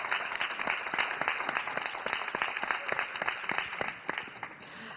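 A studio audience on a Serbian TV show applauds the team, a dense continuous clatter of clapping that stays even and fairly loud, then eases slightly near the end, with no voices on top.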